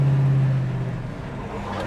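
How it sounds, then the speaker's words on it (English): A 1967 Ford Mustang's exhaust idles steadily with a low, deep, throaty rumble like a hot rod, easing slightly in loudness partway through. "The exhaust has a nice throaty sound to it too, kind of like a hot rod type sound"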